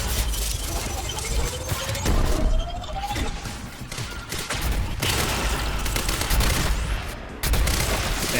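Rapid gunfire from a shooter in the video game Quantum Break, set at a swimming pool, with dense overlapping shots and bursts rattling steadily throughout against a noisy, echoing backdrop.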